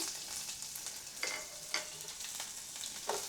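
Sambar onions frying in hot oil in a kadai while cooking Madras sambar, giving a steady close sizzle with a few sharper crackles and scrapes scattered through.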